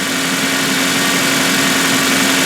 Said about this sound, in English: This is the Duratec inline 4